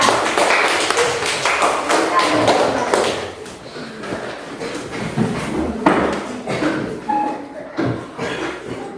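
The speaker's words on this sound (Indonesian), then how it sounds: "kita berikan tepuk tangan yang meriah untuk kelompok 3" A classroom applauds a student discussion group with dense, close clapping that fills the opening seconds, then thins into scattered claps, taps and thuds as the room settles.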